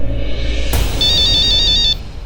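A mobile phone ringtone in a Hindi TV drama scene plays a bright repeating electronic melody for about a second, loud and close over steady background sound, with no talking.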